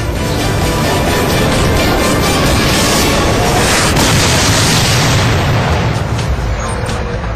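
An animated missile strike produces a dense, sustained roaring blast that stays loud and rumbling throughout, as if a continuous explosion fills the scene.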